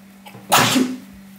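One sudden, close sneeze bursts out over a faint steady hum, then quickly fades away.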